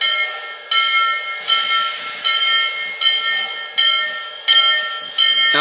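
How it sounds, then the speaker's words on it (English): A model steam locomotive's electronic bell rings steadily, a repeated metallic clang roughly every 0.7 seconds, close and clear with no talking. "Now here comes the bell."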